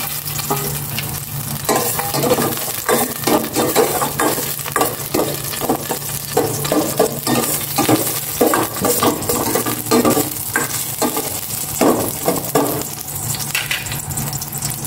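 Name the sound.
garlic sautéing in cooking oil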